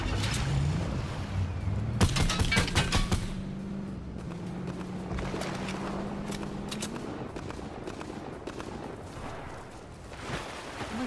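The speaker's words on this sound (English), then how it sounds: "Someone's shooting down the beach at me." Gunfire in Fortnite down a beach, a quick burst of sharp shots around two to three seconds in with scattered fainter shots later, over a steady wash of wind, waves and ambient game noise.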